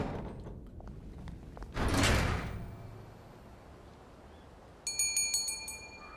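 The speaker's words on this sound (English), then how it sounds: "That bell does nothing." In the video game We Happy Few, a bell rings several times in quick succession, following an earlier heavy sliding rush and thud, with the bright chimes ringing out over low ambient game noise.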